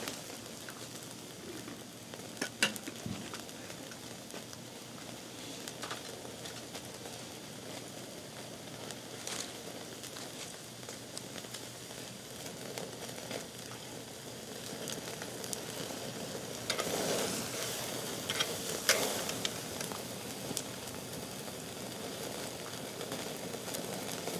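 Meat grilling with olive oil and seasoning, a steady hiss and crackle that swells louder near the end, punctuated by a few sharp pops, with no one talking.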